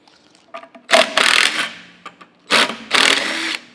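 A power tool backs socket cap screws out of the motor of a Crescent double disc sander, sounding as two close, loud whirring bursts of about a second each, with small clicks and taps before and between them.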